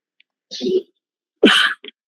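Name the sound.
sneeze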